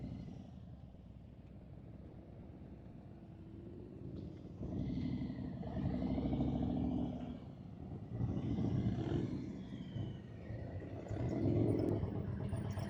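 A motorcycle engine rumbles low during slow-speed riding practice, with the throttle held lightly and the clutch in the friction zone. Its note swells and eases in gentle surges, fairly quiet and a little distant.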